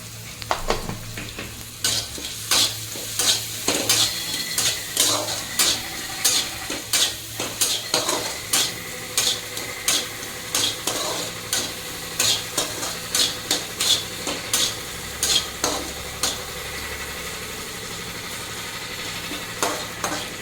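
Tomatoes sauté in a pan for egg bhurji: a continuous close sizzle runs under rhythmic, regular clinks and scrapes of a metal spoon stirring against the pan.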